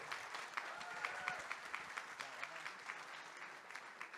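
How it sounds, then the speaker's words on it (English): A modest round of audience applause at a startup pitch showcase summit, individual claps audible within a steady, fairly quiet patter heard from a distance. "So just a round of applause for Dave."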